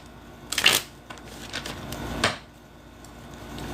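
Cards being shuffled by hand indoors, two distinct riffling bursts with quieter handling rustles between, close and clear with no talking.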